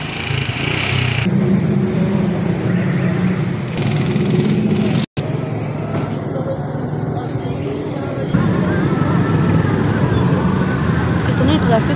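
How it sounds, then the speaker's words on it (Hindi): Road traffic with engine rumble and passing vehicles, heard from inside a car stuck in heavy traffic near Badshahi Masjid; steady, fairly loud noise with a brief dropout midway, and people talk in the car throughout. "और ट्रैफिक इतनी हो रही है कि बंदा फंस ही गया इधर आके"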